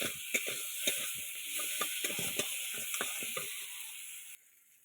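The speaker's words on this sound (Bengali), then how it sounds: "মোটামুটি কাঁকড়া ভালোভাবে কষা হয়ে গেছে, দেখেছো?" Crab sizzles as it is sautéed with garam masala in a pan, making steady frying crackle broken by repeated sharp scraping and clattering strokes of a utensil, then falling quiet at the end.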